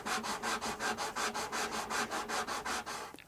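Sandpaper rubs back and forth over the wooden fretboard extension of an acoustic guitar, about fourteen quick, even strokes in a steady rhythm, close and clear with no talking.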